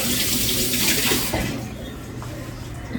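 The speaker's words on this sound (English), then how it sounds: "now I gotta rinse my hands off" Tap water runs steadily into a kitchen sink while hands are rinsed during breakfast cooking, a continuous close splashing hiss that shifts slightly as the hands move under the stream.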